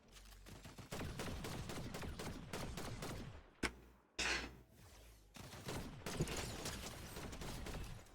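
Rapid, sustained bursts of video game gunfire rattle in dense strings, break off briefly, then resume with mechanical clicks between volleys, fairly quiet and continuous.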